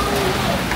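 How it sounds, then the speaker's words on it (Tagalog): Heavy rain pours down steadily in a dense, unbroken hiss, a close wash of falling water with no clear pauses through the short stretch. "So sana tumigil tong ulan"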